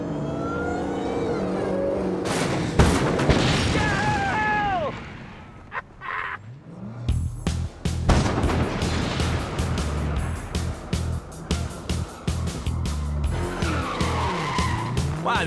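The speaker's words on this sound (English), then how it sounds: "no car stunt is complete without driving through a bunch of stacked up boxes that never seem to have anything" A stunt car skids and smashes through a stack of empty cardboard boxes, with tire screech and revving engine, then a long run of rapid crashing, thumping impacts and scraping as boxes scatter, loud and close.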